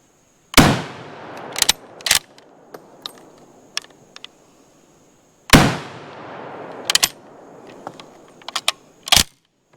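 Two loud, sharp shots from a SIG SG510/PE57 rifle a few seconds apart, each ringing into a long reverberant tail, with metallic clicks and clatter of the action and brass in between.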